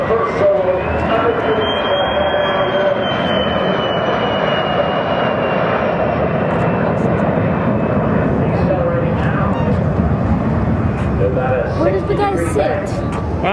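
The White Knight Two carrier aircraft, Virgin Mothership Eve, flies at the Edwards Air Force Base airshow in 2009. Its loud engines make a steady, unbroken roaring drone with a thin rising whine, and voices sound beneath it.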